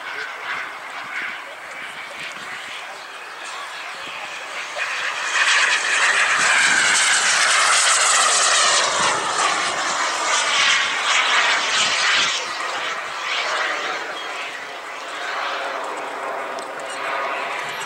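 Model Rafale jet airplane with smoke system flying at a Fourth of July airshow, its high whining engine roar swelling loud as it passes close, then slowly fading with a Doppler sweep under a commentator talking.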